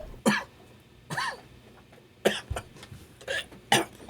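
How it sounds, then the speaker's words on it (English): Six separate coughs from one person with a cold-like illness, sharp and close, spaced irregularly about a second apart over a quiet background. "I can't seem to shake this cough."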